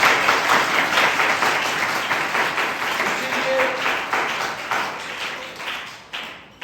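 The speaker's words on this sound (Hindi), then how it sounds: "एक बार जोरदार ताली बजाइए।" A church congregation claps loudly together in a dense, continuous burst of applause that gradually thins and fades toward the end.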